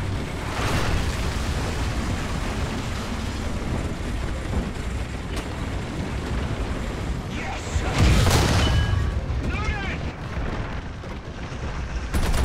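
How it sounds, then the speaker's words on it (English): Artillery barrage in the War Thunder video game, a dense low rumble of distant booms and blasts running throughout, swelling into a heavier impact near the middle, with faint radio-style voices under the noise. "Requesting for artillery fire."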